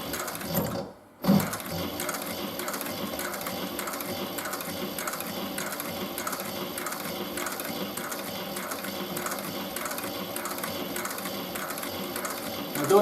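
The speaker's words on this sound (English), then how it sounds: "the great thing about this machine is it's got a servo motor, so I can literally just do 1 stitch at a time on it, or I can go faster" A servo-motor sewing machine stitches a raised belt, a fast, even mechanical chatter of needle strokes running steadily at close range after a brief pause near the start.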